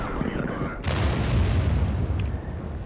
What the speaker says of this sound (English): Friendly artillery misses the IS-3.